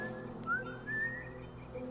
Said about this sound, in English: Oh, she's whistling. I'm whistling.